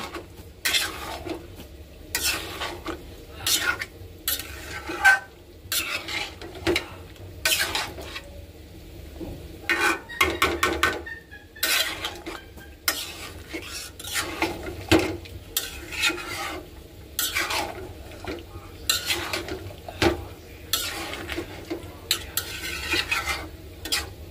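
Green chilies are stirred and sautéed in a pan with a spatula, giving repeated scraping strokes in an uneven rhythm over a soft background sizzle.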